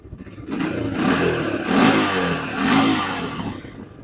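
Honda TRX300EX ATV engine revving under throttle blips, a rough mid-pitched engine note swelling and easing back in several surges, close and fairly loud with no talking.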